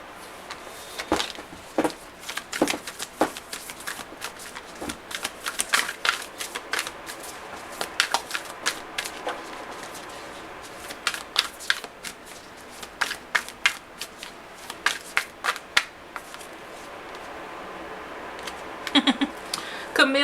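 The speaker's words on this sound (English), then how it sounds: "So let's pull an animal card." Animal oracle cards are shuffled by hand, giving a quick, uneven run of crisp flicks and riffles that pauses briefly before a final flurry, close and fairly quiet with no talk.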